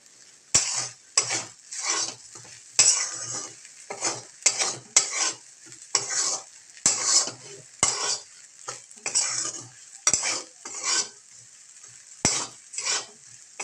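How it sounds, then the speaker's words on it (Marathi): Sabudana khichdi with fried potato slow-roasts in a pan while a spoon stirs it in repeated scraping strokes, with steady rhythmic scrapes, occasional sharp clinks against the metal and a gentle sizzle, close up and alone. "सगळी मऊ होण्यासाठी मंद भाजून घ्यायचे म्हणजे जेणेकरून खिचडी मऊ होईल"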